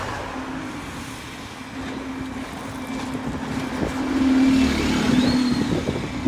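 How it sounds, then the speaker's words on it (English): A local bus pulls into the new Exeter bus station, its engine rumbling steadily and growing louder as it nears, with wind noise and a whining tone near the end. "we've got another bus coming down, and it's my local Alphonson bus"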